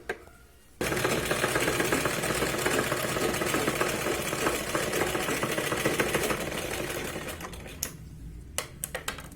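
Sewing machine stitching a katori choli blouse along the waist side seam; after a quiet start it runs in a fast, steady, even whir for several seconds, then stops, leaving a few isolated clicks.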